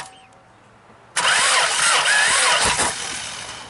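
A small engine fitted with orbeez-filled spark plugs cranks and suddenly fires, roaring loudly at once and holding a rough, harsh running note before easing slightly.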